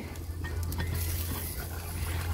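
Potatoes cook in a covered kazan at a dacha, giving a steady bubbling, sizzling boil that stays close and even throughout with a low hum beneath it.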